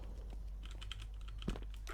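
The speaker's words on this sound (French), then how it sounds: "J'entends son vieux clavier, le stressé de la vie" Old computer keyboard being typed on during an online game: a fairly faint, continuous patter of quick key clicks with one slightly heavier tap near the end, and no voices.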